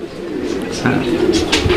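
Pigeons kept for sale coo close by, a few soft throaty calls over a short moment while a person speaks nearby.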